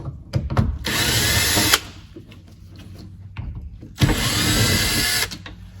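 A power drill whirs in two loud bursts of about a second each while removing bolts from a BMW E46 door, with clicks and handling noises between the bursts.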